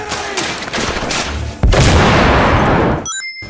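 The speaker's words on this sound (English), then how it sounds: "Grenade out! Grenade!" Grenade explosion and gunfire in The Order: 1886, a rattle of shots followed by a loud booming blast that rings out and cuts off abruptly.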